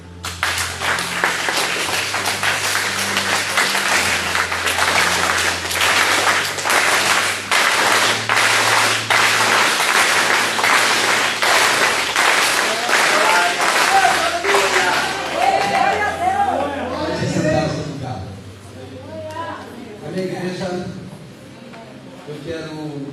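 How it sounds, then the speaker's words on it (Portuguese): Applause from a church congregation during an evening worship service, a dense, loud wash of clapping that runs steadily for about fifteen seconds over a sustained musical drone, then thins out and fades while a voice begins to speak. "Eu quero que você aplauda naquele taco."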